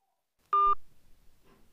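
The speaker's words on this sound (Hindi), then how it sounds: "इस पर हम मिस कॉल लगा के देखेंगे" A single short telephone keypad tone sounds close and clear while dialling a missed call on a mobile phone, followed by faint low rustling.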